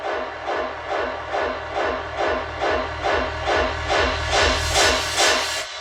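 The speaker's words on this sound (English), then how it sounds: "I love using the kHz convolver to give the main sound a more reverbed and washed out character" A washed-out, heavily reverberant dubstep main bass sound smeared by convolution reverb, pulsing in steady repeated swells with a continuous hissy top and low rumble underneath, loud and alone without any talk.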